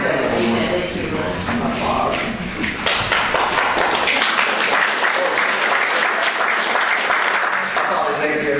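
Dense, loud audience applause at a TxDOT public meeting in Medina County fills the clip, holding steady without letup and with a few taps and thumps mixed into the clapping.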